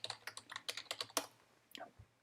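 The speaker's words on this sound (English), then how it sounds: "by typing it in, pressing enter" Typing on a computer keyboard during a MATLAB workshop: a quick run of about a dozen close, crisp key clicks, then a pause and a few softer taps, faint and with no talk.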